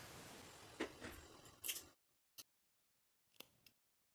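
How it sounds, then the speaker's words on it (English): Sharp scissors snip into fabric toward the stitching line at the point of a V neckline on a beach cover-up, a few close crisp cuts with a rustle of cloth, then short separate snips after a pause. "we're going to snip to the stitching line and not beyond"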